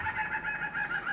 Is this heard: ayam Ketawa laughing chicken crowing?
yes